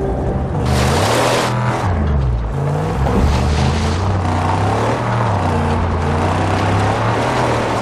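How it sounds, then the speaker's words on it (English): Buggy engine from the Mad Max video game revving loudly and continuously, a steady low motor drone with rising and falling pitch, close and dominant throughout. "The buggy's humble, but she can haul!"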